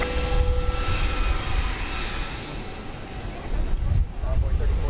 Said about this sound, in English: As we watch this A300 taxiing in from Chicago Rockford International Airport.